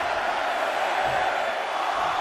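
Steady roar of a wrestling arena crowd in the video game WWE 2K23 during a Royal Rumble match, a dense continuous wash of cheering that holds at an even level throughout.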